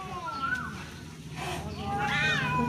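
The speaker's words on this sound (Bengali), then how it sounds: "দেখো কুকুর বিড়াল মারপিট করছে" A cat fighting with a dog lets out several drawn, wavering meows and yowls over continuous background noise, with voices talking nearby.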